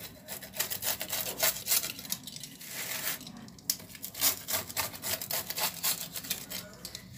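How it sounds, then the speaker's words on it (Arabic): A knife saws back and forth through crusty bread, producing a steady series of close, scratchy crunching strokes with no talking. "غنقطعها باش تسمعوا انا كنتمنى من تسمعوا التقرميشه ديالها"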